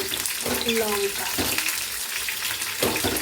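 Cubed capsicum, onion and tomato frying for a chilli soya curry, a continuous loud sizzle with stirring scrapes and light clatter.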